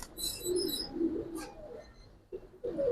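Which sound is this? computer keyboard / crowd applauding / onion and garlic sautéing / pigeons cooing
pigeons cooing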